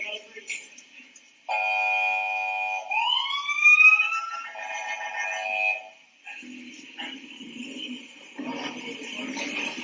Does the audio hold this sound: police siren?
yes